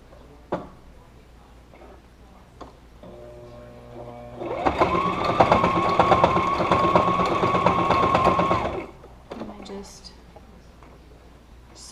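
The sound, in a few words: sewing machine stitching a DIY face mask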